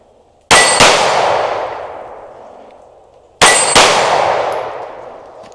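Two loud, ringing clangs of bullets striking a small 8-inch steel plate target, each hit followed by a long metallic decay, about three seconds apart; the gunshots themselves are not distinct.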